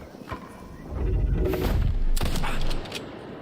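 A burst of rapid gunfire from the video game Indiana Jones and the Great Circle rattles for a couple of seconds between a few louder single shots, punchy and close, with no talking.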